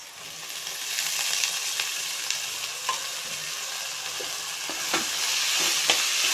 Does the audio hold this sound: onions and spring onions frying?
yes